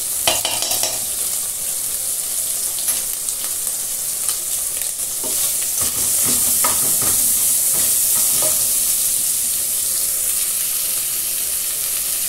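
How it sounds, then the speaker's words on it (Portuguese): Garlic sizzling in a frying pan as it is added for a home-cooked lunch, a loud steady hiss with occasional stirring scrapes, close up and continuous. "Vou colocar o alho."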